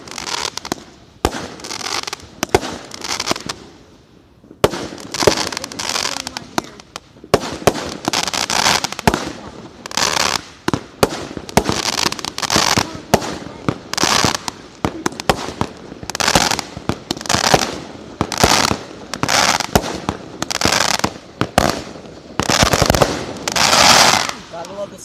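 Fireworks explode at night in a long, dense barrage of loud cracking bangs and crackling bursts. They come in rapid irregular clusters with brief pauses, and people talk now and then between the blasts.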